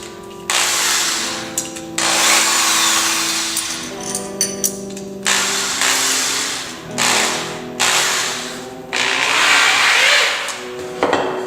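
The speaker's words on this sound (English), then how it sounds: "I'm just gonna drill a hole right into the center." A power drill whines loudly in several long runs, drilling a hole into the center of a saw blade, stopping and restarting with brief pauses, its pitch dipping as the bit bites in.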